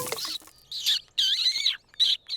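A baby bird in a cartoon gives a series of high, thin chirps in short bursts, close and clear with quiet gaps between calls.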